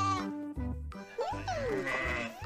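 A toy truck animal figure of a sheep gives off a few loud, close electronic bleats, wavering and tonal, lasting a couple of seconds with no talk.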